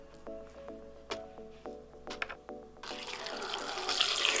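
Water pours into a blender holding chopped bok choy and banana, a steady broadband splashing stream that starts after a few light clinks and grows louder and fuller toward the end.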